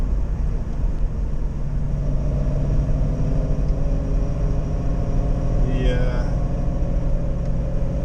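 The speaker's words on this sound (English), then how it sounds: "the Borg Warner's got a nice whine" A 1977 Pontiac Trans Am with a Borg Warner 4-speed gearbox cruises along, its steady engine drone and low rumble filling the cabin with a faint gear whine riding over it.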